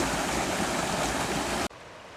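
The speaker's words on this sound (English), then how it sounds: "White water!" Rushing white water rapids on the Mad River, a loud, dense, steady roar heard from a kayak that cuts off abruptly.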